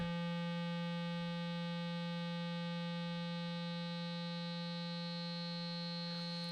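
A steady, buzzing synthesizer tone with rich harmonics through a filter with resonance being raised, held constant and loud, brightening slightly at the very end.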